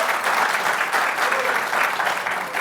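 Dense, steady audience applause at a public debate on journalism, government surveillance and Wikileaks, continuous and fairly loud from start to finish with no speech over it.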